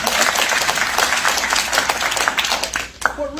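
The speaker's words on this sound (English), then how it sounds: "And that you can applaud if you'd like to." Conference audience at a state political gathering breaks into steady, dense applause that fills the room and continues throughout before tapering near the end, with a voice briefly coming through.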